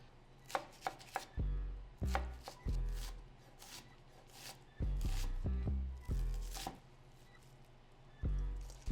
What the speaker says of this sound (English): we're just rolling our cilantro up, and we're just chopping it roughly to add into our pico